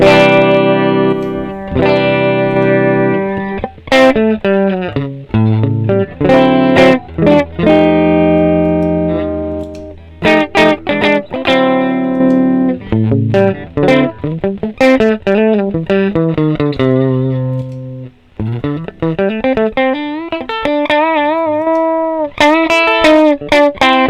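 An electric guitar through a Tech 21 OMG Richie Kotzen boost pedal plays loud, sustained riffs and bent notes, gritty and slightly echoing, with short pauses between phrases and no voices.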